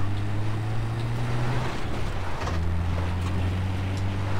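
A vehicle engine in Far Cry 4 drones steadily with a low, sustained hum that shifts pitch partway through as it drives off, heard alone with a constant rushing background.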